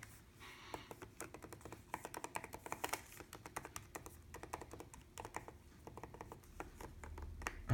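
Typing on a 2016 MacBook Pro butterfly-mechanism keyboard gives a close, quick run of crisp, clicky key taps with short pauses between bursts, and no one speaks.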